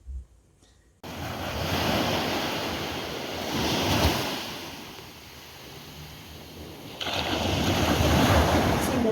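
Ocean waves wash onto a beach in Fiji, a broad surging roar that swells and eases, with wind buffeting the microphone and no voices; a short quiet lull comes before the surf sound starts.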